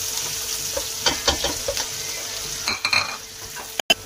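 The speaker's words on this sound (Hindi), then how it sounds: "अब ये मेरे पास है बड़े साइज का एक प्याज वो मैं इसमें डाल दूंगी और ब्राउन होने पे ये प्याज मैं निकाल लूंगी" A large onion frying in hot oil in a pan while a curry is cooked, giving a steady low sizzle with scattered stirring scrapes and a sharp clatter near the end.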